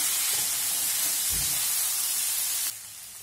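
Sliced okra (bendi) fries in a pan for a dry stir-fry, giving a steady, close hiss-like sizzle with a faint stir-thump midway, before the level drops abruptly near the end.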